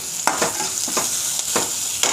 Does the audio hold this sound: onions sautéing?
yes